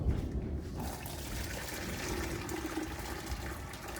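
A steady stream of dandelion wine liquid pours through a strainer and splashes into a pitcher, a continuous soft trickling wash at moderate volume.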